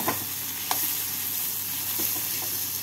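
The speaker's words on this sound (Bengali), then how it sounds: "ভেজে গুঁড়ো করে নেওয়া জিরে আর শুকনো লঙ্কাটা দিয়ে ভালো করে মিশিয়ে নিচ্ছি" Roasted ground cumin and dried chilli being stirred into a mashed chana dal and chhana kabab mixture, with a few soft scrapes and taps over a steady background hiss, no voices.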